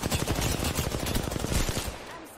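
Fast, continuous machine-gun fire crackles up close in the battle royale shooter Apex Legends, a dense stream of rapid shots that thins out toward the end.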